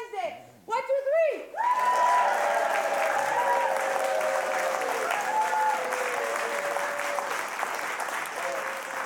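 A studio audience breaks into loud, sustained clapping that swells quickly and holds steady, a dense wash of many hands after a brief spoken countdown, with a voice speaking over the applause.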